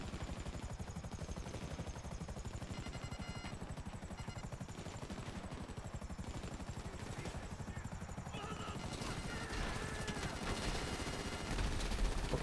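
A helicopter in Grand Theft Auto Online hums steadily with rapid rotor thumps, and near the end weapon fire and missile launches crackle in, growing louder.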